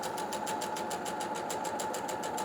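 A sewing machine stitches rapidly and steadily up close, its needle ticking in an even, fast rhythm while basting a ruffle to a dress bodice.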